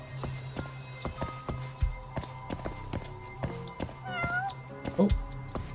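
In the game Judgment, footsteps tap steadily while a cat gives a couple of short, rising meows nearby, quiet against a soft ambient background.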